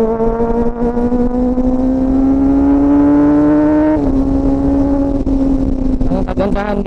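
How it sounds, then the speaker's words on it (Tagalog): Kawasaki ZX-25R motorcycle engine screaming at very high revs, a loud piercing whine holding and climbing steadily, dipping briefly at a shift, then revving on, with a voice faintly beneath. "Grabe humiyaw itong 25R."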